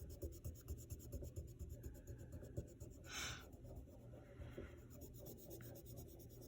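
Colored pencil shading on paper in a soft, steady scratchy rub with quick back-and-forth strokes, faint and close, with no talking.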